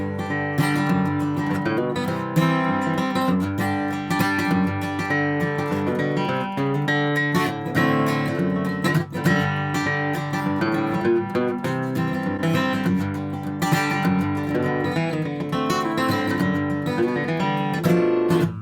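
Bluegrass rhythm guitar played by an experienced player, full and busy, with constant strummed chords, bass-note runs and fills. It goes on for nearly twenty seconds, loud and close, with no voice over it.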